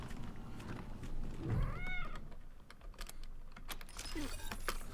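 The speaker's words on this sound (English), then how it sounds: "There's a named cat here." A cat meows once in Wasteland 3, a short rising call amid game sounds, clicking, and a dense, busy background with scattered sharp ticks.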